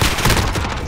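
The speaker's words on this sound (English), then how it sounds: "All my first shots missed." Rapid gunfire in the video game Call of Duty Modern Warfare (2019), a dense, loud burst of overlapping shots lasting about a second.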